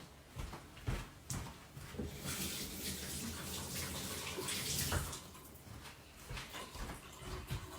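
Tap water runs into a kitchen sink as hands are rinsed under it, a steady close splashing rush with small bumps and knocks.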